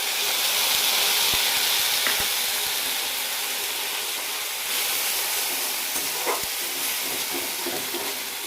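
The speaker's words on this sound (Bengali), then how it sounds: "পেঁয়াজ রসুন ভাজার পর মশলাটা যেটা দেখানো জল দিয়ে গুলে দিয়ে দেবো।" Masala paste mixed with water hits a pan of fried onion and garlic, a loud, steady hissing sizzle with occasional clicks of stirring, no voices.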